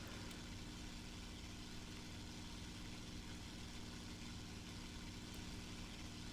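Steady, droning aircraft engine of a War Thunder warplane with a Mustang-like tone, a constant mid and low rumble held at even loudness throughout, with no voices.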